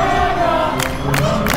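A dense crowd at a Smash Bros tournament cheers and roars loudly and without a break, with shouts rising above the steady wall of noise.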